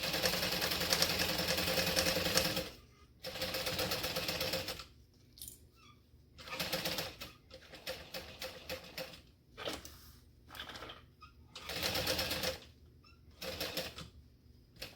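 A sewing machine stitches a seam on a fabric pack in repeated bursts, a long run at the start followed by shorter stop-and-start stretches, close and fairly quiet.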